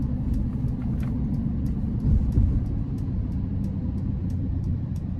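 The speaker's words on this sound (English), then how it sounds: "Not that we'll be able to actually tell that big of a difference just driving down the road here in pretty dry conditions on the interstate" A 2023 Mercedes Sprinter Luxe conversion van with a turbocharged four-cylinder engine cruising on a dry interstate, giving a steady low road and engine rumble that swells briefly midway.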